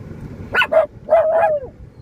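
Several dogs bark in two short bursts, fairly close and loud, over a low indoor background hum with no talking.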